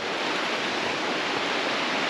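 Fall Creek in Henry Cowell State Park rushes steadily through redwood forest, a continuous full broadband roar of flowing water, close and unbroken with no voices.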